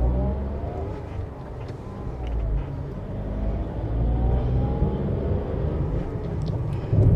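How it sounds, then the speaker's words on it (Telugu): Engine drone of a Tata Altroz XE heard from inside the cabin while driving, a steady low rumble with rising and falling revs throughout, fairly loud and continuous with no talking. "మనకు రన్నింగ్లో మాత్రం ఇంజన్ నాయిస్ అనేది మాత్రం క్యాబిన్లోకి మరికొంత ఎక్కువగా వినిపిస్తూ ఉంది"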